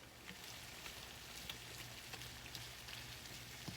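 Ground beef browns in a pan with a faint, steady sizzle and a fine crackle, heard close and alone.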